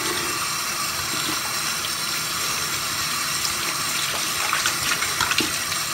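Steady tap water runs into a sink while soap is rinsed off hands, a close continuous stream with light splashing and irregular patter as the hands move under it.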